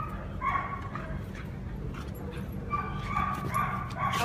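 A nine-month-old merle husky mix whimpers and lets out high, yipping cries in short bursts, close by, over a low indoor background.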